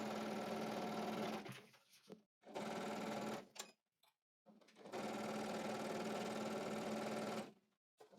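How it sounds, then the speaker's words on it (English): Sewing machine running steady stitches along a skirt side seam in black thread, a continuous whirring hum in several long runs broken by brief pauses and a quick back stitch, close and clear. "I'm sewing with black thread just so you can see it."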